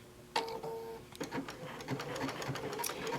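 A sewing machine blanket stitching an applique on a pincushion, running in short whirring, rattling bursts at close range with small pauses between.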